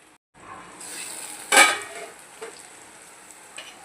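Bitter gourd cooks in a pan on a low gas flame, a soft, steady sizzle close by with one sharper clatter of a utensil or lid against the pan partway through, and no voices.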